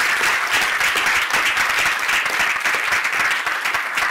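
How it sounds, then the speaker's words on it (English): A packed masterclass audience at Liverpool John Moores University gives sustained applause, a dense, even wash of many hands clapping at once, loud and steady throughout with no break. "A round of applause to them again."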